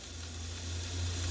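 A thick yellowtail snapper sizzles as it cooks, a soft steady hiss over a low hum, faint and continuous.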